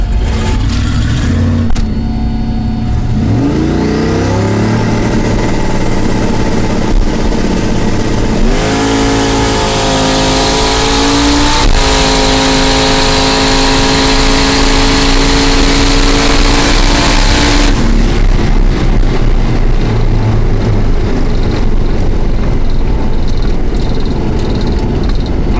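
A 1500 hp twin-turbo exoskeleton drag car roars loud and close, the engine revving and climbing through gear changes in a hard quarter-mile pull before backing off.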